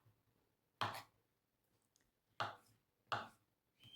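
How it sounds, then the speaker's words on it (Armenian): A knife cuts through boiled potatoes on a board, giving three sharp, close chops spaced irregularly apart, alone and fairly quiet in an otherwise still kitchen. "կարտոֆիլը շատ չեմ եփել, լավ էլ կտրտվում է, հավասարաչափ"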